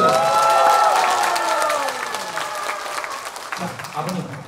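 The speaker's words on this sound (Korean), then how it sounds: "박수 부탁드립니다" An audience at a singer's album launch event claps, loud at first then thinning out, with a presenter speaking over the fading applause.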